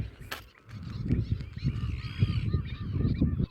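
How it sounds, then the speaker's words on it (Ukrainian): A dense chorus of honking geese, gulls, cormorants, flamingos, swans and herons calling over one another at a bird colony, loud and continuous, with a sharp cry near the start. "Мартини, чайки, чого тут немає? Баклани, фламінго, лебеді, чаплі"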